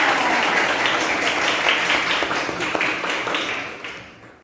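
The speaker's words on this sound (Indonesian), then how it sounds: "Tepuk tangan dulu untuk Nur Sifah" A class of children at an Islamic primary school claps together, a dense, lively round of applause that holds steady, then thins and fades away at the end.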